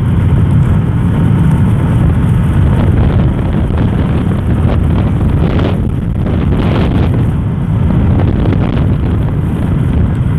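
Loud, continuous wind buffets the microphone during a motorbike ride in DRT, a heavy low rumbling roar with gusty surges and faint engine noise underneath.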